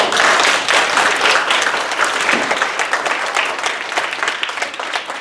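An audience claps loudly after a reading of the children's book Where the Wild Things Are, starting strong and gradually tapering off.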